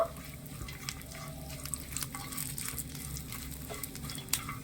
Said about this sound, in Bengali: দিয়ে দিচ্ছি কিছু কাঠবাদাম আর একটু কাজু বাদাম কুচি হালকা আছে একটু ভেজে নেব